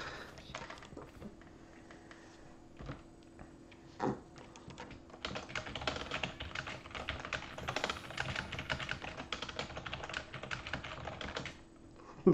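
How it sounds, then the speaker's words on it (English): Rapid typing on a computer keyboard fills the stretch with dense, close clicking that picks up and grows busier midway before stopping near the end. "Look what I'm typing."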